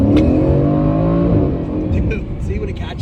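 A supercar's engine pulls hard under acceleration, a loud, close, deep roar that climbs and then eases off slightly, with a few faint higher noises near the end.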